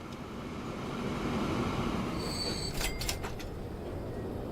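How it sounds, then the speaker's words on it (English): Video game train running on tracks in Transport Fever 2, a steady rolling rumble with a brief high wheel squeal and clanks partway through, heard alone without talk. "we're going to try replacing this train with a 37-mile-an-hour one"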